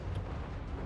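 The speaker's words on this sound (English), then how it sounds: "Looks like the cannons are shooting." Cannons fire across a Total War: Warhammer 3 battlefield, a muffled booming rumble with a sharp burst near the start, heard moderately far off beneath the general battle din.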